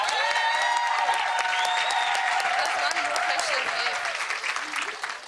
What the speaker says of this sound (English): can I please have a round of applause for our panelists this evening?